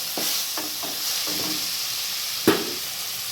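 Mashed potatoes being stirred into garam-masala-spiced chicken frying in a pan, with a steady close sizzle, soft scraping stirs, and one sharper clack of the spoon near the end.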